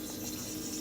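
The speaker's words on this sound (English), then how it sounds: "dump my water again." Water pours out of a bowl during a bathroom faucet installation, a brief continuous splashing gush, close and moderately quiet.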